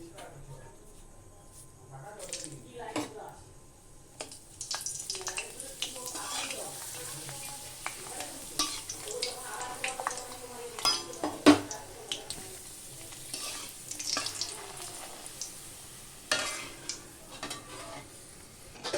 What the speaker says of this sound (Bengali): এটা এবার পাঁপড়টা ভেজে নিচ্ছি